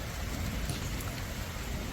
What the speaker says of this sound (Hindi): तेज गरज के साथ मूसलाधार बारिश भी हो रही है